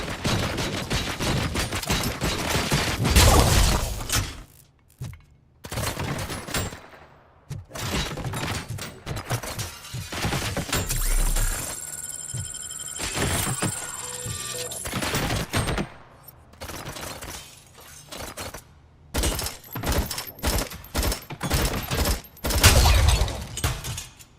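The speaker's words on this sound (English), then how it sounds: "Oh, those UEDs shoot so beautifully. Too bad they're shooting at me!" UED robots in RoboCop: Rogue City unleash rapid bursts of automatic gunfire, broken by short pauses, with glass shattering and debris thudding amid the loud, close barrage.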